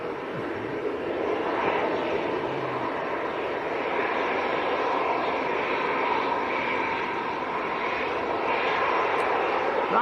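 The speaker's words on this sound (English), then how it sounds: "EasyJet lining up next" A passenger jet airliner at Manchester airport, an EasyJet aircraft, produces a steady, loud broadband engine roar that holds evenly throughout, with no talk over it.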